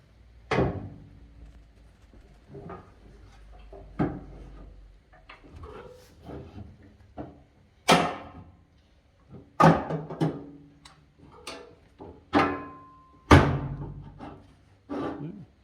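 Side door and then lid of an SA35 machine shut in turn, giving a series of close, sharp clunks and knocks with quieter rattles and handling noise between them.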